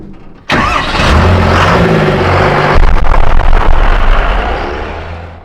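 A Ford Dentside truck built on an F450 frame with a 1979 crew cab body, 12-valve Cummins diesel and ZF6 transmission cranks and fires, then settles into a loud, close, rough diesel idle with some revving.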